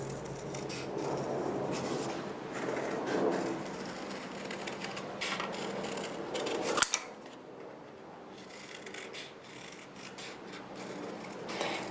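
Scissors snip and rasp through cereal-box chipboard, cutting out an egg shape in a close, steady run of crunchy cuts that ends with a sharp snap, followed by quieter handling.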